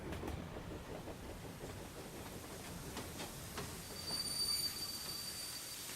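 A video game train rolls steadily along the rails, a faint continuous rumble and clatter with a soft high hiss, no voices.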